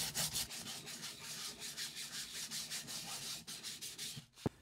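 A 3D-printed wheel pattern for aluminum casting is sanded by hand with steady back-and-forth rasping strokes, fairly quiet and close, and no voices are heard.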